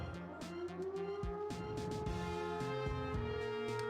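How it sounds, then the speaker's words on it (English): A game siren signalling the start of a tournament in Custom Robo Arena rises in a wavering tone over busy electronic music with rhythmic beeps, moderately loud and without speech. "That's definitely not the siren I would have used to start the tournament."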